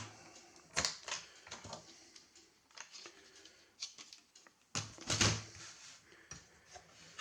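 Keypad being removed from a Tandy TRS-80 Color Computer 2, a quiet, close series of irregular plastic clicks, snaps and rattles, with two sharper bursts of clatter among softer handling noises.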